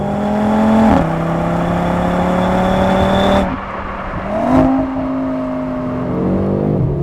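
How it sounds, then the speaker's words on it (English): An Audi RS3's 2.5-litre five-cylinder engine revs hard and close, holding a loud, droning note that shifts pitch through gear changes, briefly eases off, then climbs again. "This engine is outrageous,"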